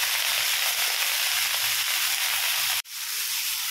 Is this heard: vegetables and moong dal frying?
yes